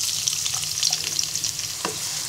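Chopped onions fry in hot soybean oil in a kadai, giving a steady, close, bright sizzle with a brief stirring clatter near the end and no talking.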